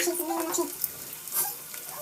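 Close, steady scraping and rustling as a spoon stirs dry poha (flattened rice) with salt around a pan, with a faint murmur of voice near the start.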